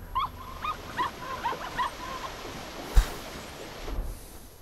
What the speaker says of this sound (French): Comment est-ce que je peux faire pour amplifier le son du chien?